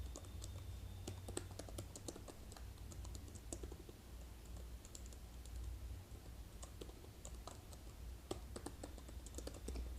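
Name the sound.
computer keyboard typing code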